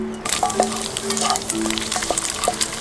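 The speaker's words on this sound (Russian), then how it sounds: "Мы сейчас сделаем масло, вытопим из курдюка." Sheep tail fat renders with a steady sizzle in a hot cast-iron pan, with scattered crackles and small pops over the hiss, heard up close.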